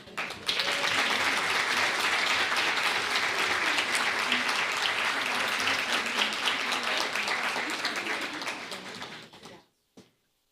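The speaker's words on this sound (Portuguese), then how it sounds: "Com palmas." An audience applauds at a women's mental health project launch event, loud and dense sustained clapping for about nine seconds before it tapers off abruptly.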